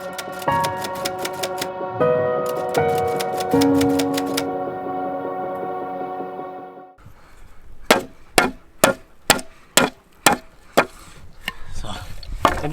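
A hand-forged axe from Bosnia strikes wood at a campsite, giving a series of about eight sharp, evenly spaced chops that stand out loud and close after a stretch of rattling, clattering activity.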